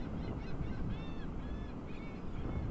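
Seagulls calling near a parked tailgate spot, a few faint repeated cries over steady low background rumble.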